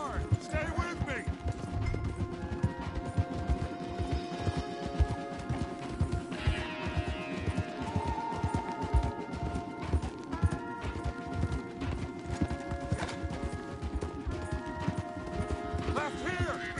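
Horses gallop hard in Red Dead Redemption 2, a steady drumming of clip-clop hoofbeats running throughout, with occasional whinnies, a crash and distant gunshots mixed in while voices talk over the ride.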